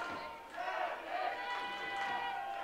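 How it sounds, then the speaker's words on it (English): An arena crowd at a women's ice hockey game between Šelmy of the Czech Republic and Finland roars and chants in a continuous wash of voices, heard from a distance and fairly faint throughout. "Crowd starting to get into it here."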